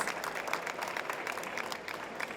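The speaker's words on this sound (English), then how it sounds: "Please give yourselves a big round of applause for joining us." Audience applause at a welcome address in Abu Dhabi, a steady wash of many hands clapping at moderate distance, sustained and even with no voices over it.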